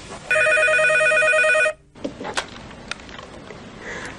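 A telephone rings during a call, a single loud electronic ring lasting over a second that cuts off sharply, followed by faint clicks and handling noise.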